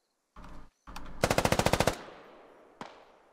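Automatic gunfire in a military video game: a short opening burst, then a rapid loud string of about ten evenly spaced shots with a ringing tail, followed by one later isolated shot, no talking.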